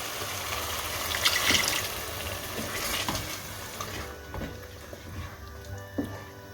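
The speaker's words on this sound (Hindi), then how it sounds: "अब हम इसमें एक नॉर्मल साइज़ का पौना कप पानी डालेंगे।" Water poured into a pan of sizzling chana dal, a steady splashing pour over frying crackle that eases off, leaving quieter sizzling with a few stirring clinks.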